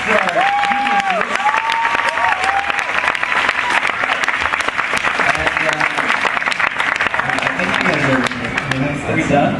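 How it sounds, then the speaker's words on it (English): Audience applause at a Disneyland annual passholder parade panel, a dense, sustained wash of clapping from a crowd, with a voice and some tonal sound running over it. "Another round of applause for our geniuses"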